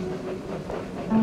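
A train runs along its rails in the 1972 film Horror Express, a steady rumbling hum with faint tonal whine and rolling rhythm, close and moderately loud, without speech.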